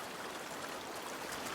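Steady flowing river water in A Plague Tale: Requiem, a quiet continuous broadband rush with faint trickling detail and no voices.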